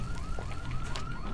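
A car alarm blaring in Dead Island 2, a continuous rising and falling electronic wail repeating steadily at close range with no talk over it.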